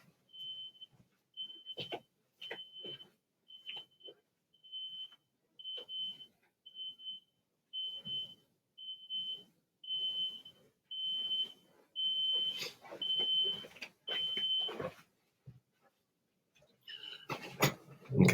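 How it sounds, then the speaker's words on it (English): A van sends out a repeating electronic beep, short high tones in an irregular run that speeds up into near-continuous beeping, faint and at a distance, with scattered background knocks and thumps. "I'm trying to figure out what that beeping is."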